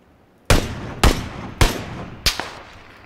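Four loud, sharp gunshots from the video game PlayerUnknown's Battlegrounds, spaced roughly half a second apart, each a hard crack with a short decaying tail, against near silence.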